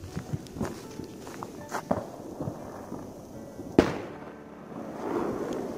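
Fireworks and firecrackers bang across a New Year's Eve night, sharp reports near and far with one loud crack standing out, their echoes rolling between surrounding mountains.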